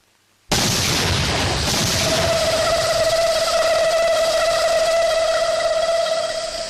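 A sudden loud bomb blast starts abruptly and then settles into a long, steady roaring rumble with a ringing tone that fades slightly toward the end, with no voices.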